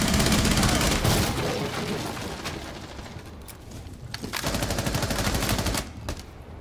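Rapid gunfire in the Rainbow Six Siege match, sharp repeated shots and automatic bursts close and loud, fading briefly mid-clip before another sustained volley, with no talk.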